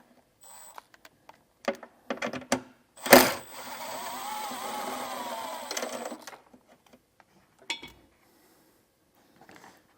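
A wrench backs off a 10 mm ground bolt on a vehicle during a wiring harness install: scattered close metallic clicks, one sharp clatter, then a few seconds of steady ratcheting whir before the ticks resume, with no talking.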